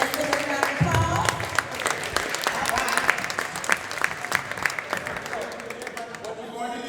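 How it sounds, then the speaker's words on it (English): An audience at a school reunion event applauds visiting alumni, a full, sustained burst of clapping with scattered sharp individual claps, mixed with some talk and gradually thinning toward the end. "So let's give them a round of applause."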